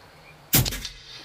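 A single suppressed PCP air rifle shot, from an FX Panthera or an Edgun Leshiy 2, fired outdoors: one sharp, muffled crack with a brief thunking tail over quiet background.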